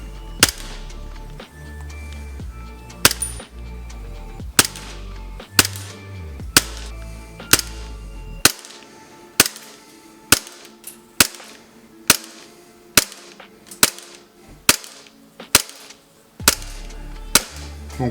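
An Umarex/SRC Glock 19 Gen 5 MOS CO2 gas blowback airsoft pistol fires about fifteen sharp, close snapping shots at an irregular pace, spaced roughly a second apart, over a faint background hum.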